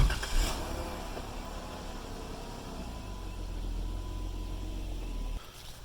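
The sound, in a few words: Jeep Wrangler driving away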